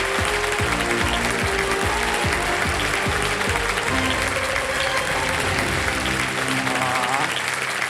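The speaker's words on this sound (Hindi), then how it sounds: "बहुत जोर से ताली बजाई उन्होंने" The studio audience of the TV quiz show Kaun Banega Crorepati breaks into loud, sustained applause, a dense wall of clapping filling the room with a little speech mixed in.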